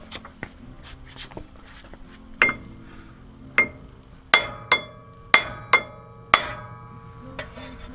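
A steel brake rotor on a GQ vehicle is struck with a lump of Australian hardwood and an old block splitter handle: several sharp, ringing metallic blows at irregular intervals, close and loud, with quiet shuffling between hits.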